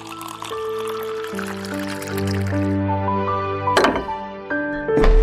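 Cold water poured into a glass in a home, a rising gurgling fill with a few clinks and drips near the end, heard alone without talk.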